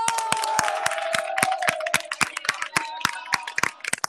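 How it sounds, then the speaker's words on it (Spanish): An audience claps for a parish priest at a gathering of pilgrims from Alcalá, with sharp, fairly evenly spaced claps repeating steadily for about four seconds over a faint sustained tone. "yo voy a pedir desde aquí un aplauso para nuestro párroco"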